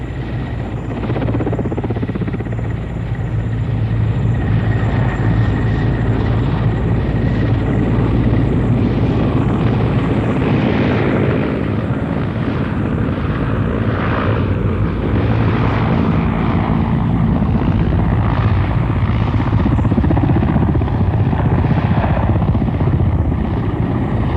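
Mi-8 military helicopters flying low over desert terrain, a loud, steady rotor and turbine roar that holds close and continuous throughout, with no speech.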